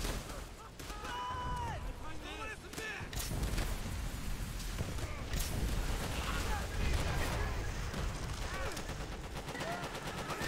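Sustained machine gun fire from a bunker in Call of Duty: World at War, continuous rattling shots blending with distant explosions and battlefield noise, with voices talking over the din.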